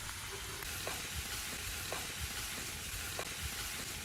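Spicy stir-fried frog with chili, pepper and fingerroot is stirred in a pan, giving a dense constant sizzle with faint periodic scrapes of the utensil, heard up close without speech.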